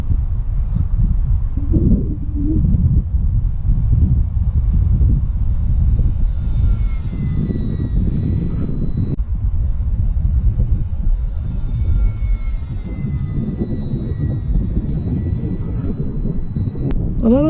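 A 750mm Hawker Hurricane model airplane climbs into the wind, its high thin motor whine drifting overhead while strong, steady wind rumble buffets the microphone for the whole stretch.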